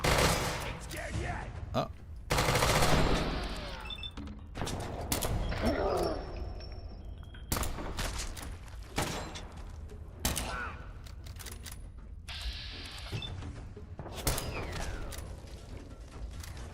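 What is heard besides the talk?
gunfire from the video game Fallout 4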